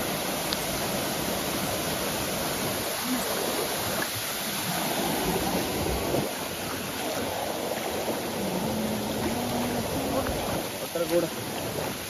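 Water rushes strongly in a steady, broad roar on the Sivakona waterfall trek, like a fast-flowing stream close by, and faint voices can be heard beneath it.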